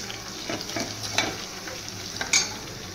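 Dried red chillies fry in a pan with a steady, soft sizzle, broken by a few sharper stirring scrapes, one brighter clink near the end.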